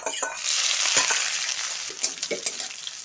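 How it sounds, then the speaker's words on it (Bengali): Chopped onions fry in hot oil with black cumin and cumin seeds, a steady close sizzle broken by a few scraping stirs of the spatula. "পেঁয়াজগুলো ভাজা ভাজা হয়ে গেছে"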